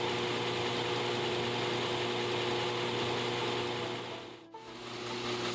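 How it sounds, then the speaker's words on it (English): A 400 grit sanding belt grinding the sides of 1095 steel knife blades, a steady loud whirring drone with a constant hum, briefly dipping as the blade lifts off before resuming. "we're actually using a 400 grit belt, and we're just basically smoothing the sides of the blades"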